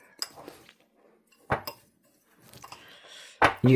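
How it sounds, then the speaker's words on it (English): A fork clinks against a dish while pecans are tossed in sugar butter for a sweet potato pecan pie, a few sharp separate clinks with near-silence between them. "I'm just using the fork, and I'm making sure that every pecan has the sugar butter on it."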